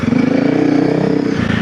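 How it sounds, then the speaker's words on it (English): A Honda CRF300L dual-sport motorcycle fitted with a Yoshimura full exhaust revs hard in third gear, a loud, close, continuous engine drone with a fast pulsing beat and no talking. "Stage 1 is a full exhaust system, which we have a Yoshimura, full exhaust on the bike."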